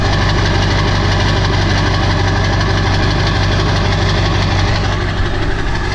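A straight-piped 7.3 PowerStroke diesel truck with its muffler deleted idles loudly and steadily, a deep rumbling exhaust drone with a fast, constant low pulse heard up close and with no talking.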